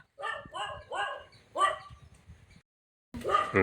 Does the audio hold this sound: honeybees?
no